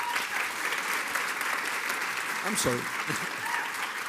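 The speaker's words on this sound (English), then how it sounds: "and for a warm applause, please" Warm applause from an audience at a student prize ceremony, a dense patter of clapping throughout, with a voice briefly speaking over it near the end.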